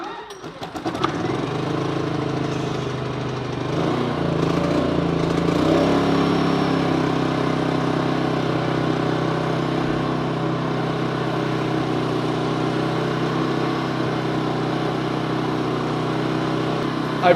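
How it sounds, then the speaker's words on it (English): A Champion portable inverter generator starts up with a brief rough catch, then settles into a steady, loud, even engine drone that runs continuously without pause. "First, let's fire up the generator."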